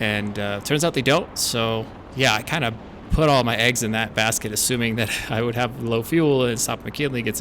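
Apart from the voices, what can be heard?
No everyday noise stands out behind the speech.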